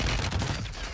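Rapid gunfire in a first-person shooter video game, a dense burst of overlapping shots crackling continuously through a short, loud stretch.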